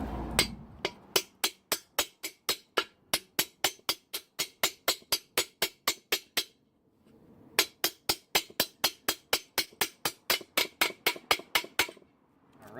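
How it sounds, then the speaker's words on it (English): Repeated sharp metallic hammer strikes in a steady rhythm, around two per second, driving a new sleeve into place using the old sleeve, pausing briefly before another run of blows. Close and clear, no talking. "I'm actually going to use a hammer and the old sleeve to drive the new one in."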